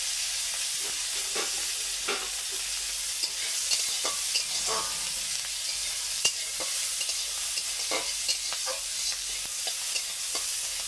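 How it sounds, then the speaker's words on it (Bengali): Shredded cabbage stir-frying in oil with chopped onion and green chilli in a pan, heard as a continuous close sizzle broken by repeated scraping stir strokes, with no voices. "এখন বাঁধাকপিটা ভাজা করবো"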